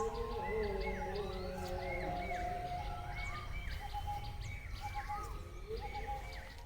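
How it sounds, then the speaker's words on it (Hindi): Birds sing and chirp in a morning farm garden in Laokhowa, Assam, with repeated short warbling phrases and whistles over a steady background hum, continuing throughout without talk. "चिड़िया की आवाज़ आप सुनो।"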